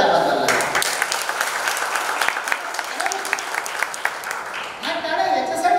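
An audience applauds a man named Bhaskar in appreciation of his effort, a steady wash of clapping that holds at an even level throughout, with some voices mixed in.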